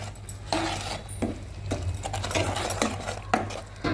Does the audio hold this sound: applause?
no